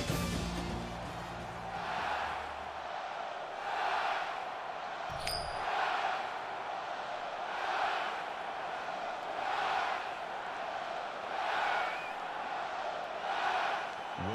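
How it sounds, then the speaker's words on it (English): A football video game stadium crowd roars steadily before kickoff of an Arizona State at Oregon matchup, in rhythmic waves of chanting noise that swell and fade about every two seconds, with a brief clink partway through. "you can feel the thunder in the crowd as they await the start of this game"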